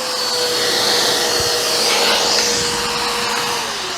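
A Bissell Pet Hair Eraser Turbo Plus vacuum cleaner runs loudly and continuously up close, a steady whining motor hum with airy rushing noise and a brief low thump midway, without speech.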